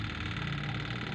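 A washing machine motor spins with a steady, even mechanical hum, continuous and unchanging over a short stretch.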